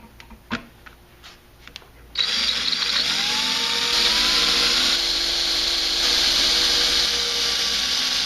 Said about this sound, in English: Now we're going to drill those out with the appropriate drill bit,